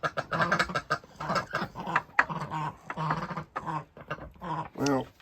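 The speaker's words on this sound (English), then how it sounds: "curious ducks" Several ducks quack in quick, nasal bursts close by, overlapping one another in a busy run with a few short pauses.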